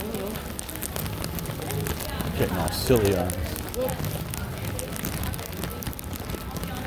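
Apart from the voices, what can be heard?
heavy rain falling on street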